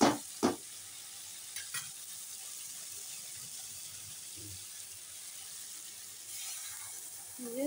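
Fish and vegetables in a pan with a little added water, a soft steady sizzle under occasional scraping knocks as the mix is stirred, quiet and close throughout.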